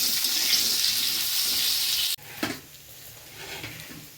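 Pumpkin stems fry in oil with a loud, close hiss that stops abruptly halfway, leaving a quieter sizzle with a few soft stirring scrapes.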